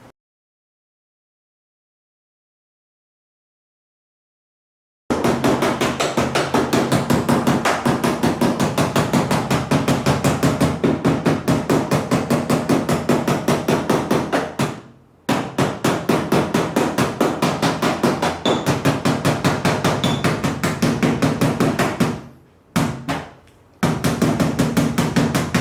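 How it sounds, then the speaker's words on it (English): Metal hammer and dolly set striking sheet metal in a steady fast rhythm of sharp, ringing blows, loud and close, with a few brief pauses, after several seconds of silence at the start. "the least expensive tool on this list that's a must-have is a hammer and dolly set"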